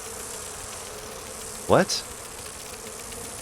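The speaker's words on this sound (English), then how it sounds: "Oh, bees, bees, bees." Bees in the Dragon Age Inquisition video game give one brief, rising buzz near the middle over a steady background hum, with a short voice just after.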